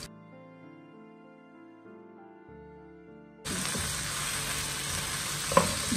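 Chopped onion hitting hot oil in a pan with fried vegetables for a vegetable biryani masala, breaking into a loud continuous sizzle halfway through after a quiet stretch of soft background music.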